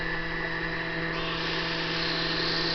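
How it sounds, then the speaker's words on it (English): Motors of an MJX Bugs 3 drone start and spin steadily, a close, even, high-pitched whine that holds constant and brightens slightly partway through. "you're just going to press this, and it starts the motors"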